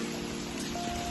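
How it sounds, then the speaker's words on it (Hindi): Rain falls in a continuous, even hiss of drops on surfaces, moderately quiet and unbroken for about a second. "देखो आज गर्मी के साथ साथ बारिश भी है"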